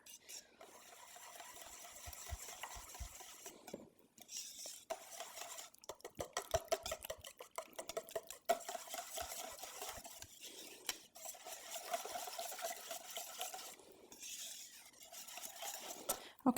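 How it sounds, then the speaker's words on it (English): Muffin batter with lemon and orange zest being whisked in a bowl for citrus hemp heart muffins, quiet rhythmic scraping and tapping of the whisk against the dish in several bursts, with brief pauses between. "we're going to give that a whisk"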